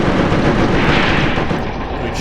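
Dense, continuous battlefield gunfire and artillery booms roll through a WW2 desert battle in a video game, loud and unbroken without pause, with no voices over it.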